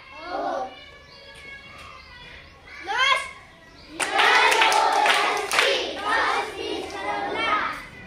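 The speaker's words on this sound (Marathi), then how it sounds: "त्यामध्ये जेवढे अक्षर असतील तेवढ्या टाळ्या वाजवायच्या आणि त्या शब्दाचा अर्थ सुद्धा सांगायचा" A group of children in a classroom claps along while chanting the letters of a word. Their voices come first, then a burst of overlapping claps mixed with their chanting.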